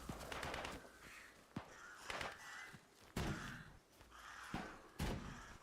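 Crows cawing in the video game Atomfall, harsh calls repeating every second or so among intermittent thuds and a steady hiss of game ambience, with no one speaking.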